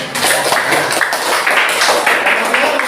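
Students in a classroom clap together for a classmate, a dense, steady patter of hands held at an even level for about three seconds, close and fairly loud.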